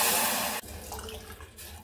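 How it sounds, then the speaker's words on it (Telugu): Water pours from a cup into a pot of melted jaggery on the stove, a brief close splashing gush that stops abruptly, then faint trickling and drips. "ఇప్పుడు ఇదే కప్పుతో 2 కప్స్ వరకు వాటర్ వేయాలి."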